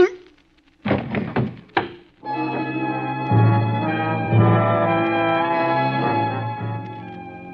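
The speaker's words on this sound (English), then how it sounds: "Gun butts make a funny sound hitting a man's head." A radio-drama effect of a gun butt striking a man's head: two dull, heavy thunks about a second apart, close and loud, then dramatic music swells. A voice is heard briefly at the start.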